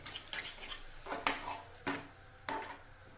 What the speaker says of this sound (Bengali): এখন আমি মিক্সিটা ধুয়ে একটু জল দিয়ে দিচ্ছি